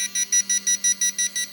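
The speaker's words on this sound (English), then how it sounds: "It's vibrating and beeping." A dog collar beeps after losing signal inside a Faraday can, giving a steady series of about eight shrill electronic beeps in a fast even rhythm, close and loud, with no voices.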